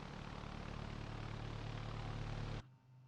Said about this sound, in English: That is a cool airplane.